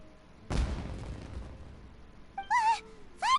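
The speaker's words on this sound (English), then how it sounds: "Was that an explosion?" A single loud boom bursts out in Genshin Impact, rumbling and fading over about a second, followed by short bright chirping tones that sound twice.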